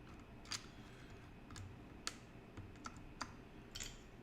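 Keystrokes on a cheap mechanical keyboard with lubed switches, a faint run of soft, muted clacks coming in small clusters over a quiet background.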